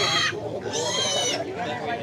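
Pigs and piglets squealing and grunting loudly in long overlapping bursts at a busy livestock market pen, with no gaps.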